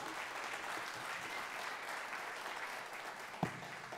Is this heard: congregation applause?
yes